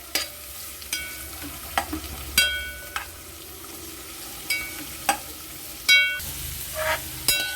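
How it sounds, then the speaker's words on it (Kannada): Onions fry in a pan with a low, steady sizzle broken by regular sharp scrapes and clicks of a spatula stirring them, up close and with no talking. "ಈ ಈರುಳ್ಳಿನ ಚೆನ್ನಾಗಿ ಫ್ರೈ ಮಾಡ್ಕೋಬೇಕು."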